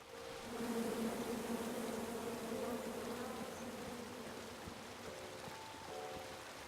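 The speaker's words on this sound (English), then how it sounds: "Come at me, bees!" A swarm of bees buzzes in the King's Quest video game, a steady droning hum that holds throughout at low volume over a soft rushing background, with no talking.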